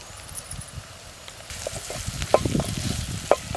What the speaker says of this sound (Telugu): ఇక అల్లం వెల్లిగడ్డ వేసుకుంటున్నా, పసుపు వేసుకుంటున్నా